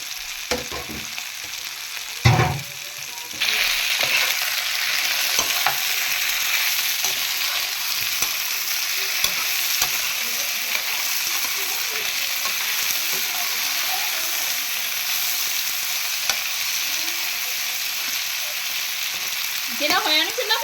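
Masala-marinated chicken with capsicum and onion fries in a hot pan, a steady loud sizzle after a clattering thump as the food goes in, with occasional stirring scrapes and a brief burst of louder spattering near the end.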